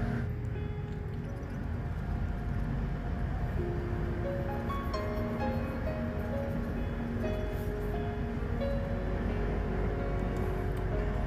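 Inside an airport rail-link train in motion: a steady loud rumble of wheels and running gear with faint tonal whines rising and falling, continuous throughout with no talking.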